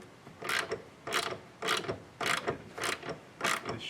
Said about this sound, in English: I put a 14mm socket on top, and I'm trying to hold this in place so it doesn't turn around.